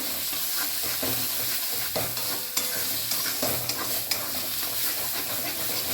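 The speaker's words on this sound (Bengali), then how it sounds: "নাড়তে নাড়তে বাটাটা জলীয় ভাবটা কমে আসবে এবং শুকনো হতে থাকবে" Cauliflower leaf paste frying in oil, stirred steadily in a pan, with a loud continuous sizzle and intermittent scraping strokes of the spatula throughout.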